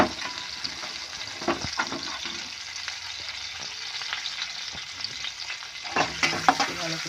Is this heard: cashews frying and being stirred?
yes